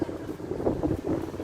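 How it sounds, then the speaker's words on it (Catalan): Wind gusting across a hotel terrace on a sunny day, a steady low rushing buffet against the microphone, with no voices. "Fa un vent."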